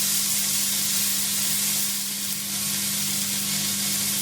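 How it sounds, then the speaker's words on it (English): Tomato puree sizzles steadily in a hot pan while being stirred, a constant close frying hiss with a low hum underneath, no voices, for a BBQ braised Côte Argent steak dish. "Just stir that together"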